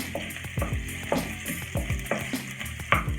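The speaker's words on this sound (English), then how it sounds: "So first I will add some onions into that" Onions for tomato chutney fry in a pan with a close, steady sizzle, punctuated by repeated scraping stirs at a fairly regular rhythm, moderately loud and without speech.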